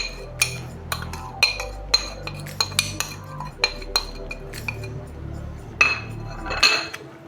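Spices and green chilli paste mixed into beef in a bowl, with repeated light clinks of a spoon against the dish at an uneven rhythm over a low background hum, close and clear.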